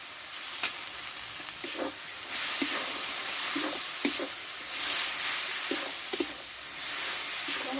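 Mustard paste frying with taro leaves in a pan, a steady close sizzle broken by repeated scraping stirs of a spatula, no voices.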